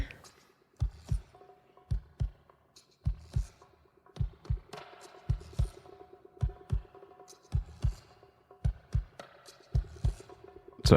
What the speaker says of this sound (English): There's the Tin Man's heartbeat.